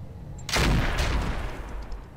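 Mech weapons fire in the Roguetech game, a laser and a combat shotgun, heard as one loud, sudden blast with a booming low rumble that decays over about a second and a half.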